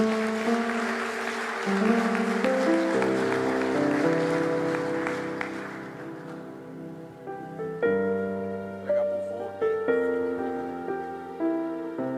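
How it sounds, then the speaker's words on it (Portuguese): A church congregation applauds during a Sunday celebration service. A dense wash of clapping rides over sustained music, then fades after several seconds while the music carries on. "Aplauda o Senhor mais uma vez."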